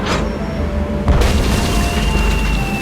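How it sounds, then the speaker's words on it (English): A cannon fires a cannonball in the Tales of Monkey Island video game, a single deep boom landing about a second in and rolling out into a low rumble over a steady background. "It's amazing how many of life's problems are solved by indiscriminate cannon fire."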